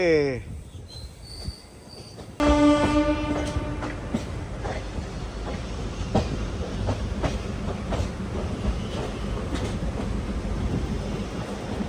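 A Durg to Visakhapatnam express passenger train rolls out of the station with rhythmic clickety-clack of wheels, steadily building pace; a horn-like tone sounds at the start and a faint voice briefly appears.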